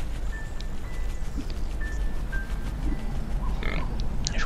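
A pig grunts in the video game Child of Light, soft low grunts over a steady game soundscape with faint chimes, heard alone without talk.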